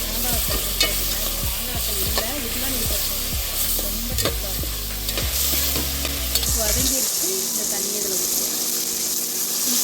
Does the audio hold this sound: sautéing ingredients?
yes